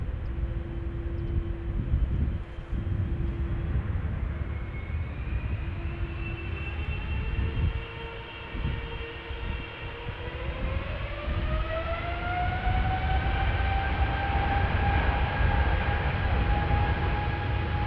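A KLM Boeing 777-300ER departing runway 36L at Amsterdam Schiphol: a steady, loud jet roar with a rising engine whine that climbs in pitch as it spools up, continuous and heard from a distance outdoors, with no voices.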